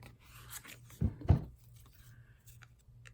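A paper trimmer cuts through card, giving a short quiet slicing and scraping with a couple of brief sharp strokes near the middle, close and otherwise faint.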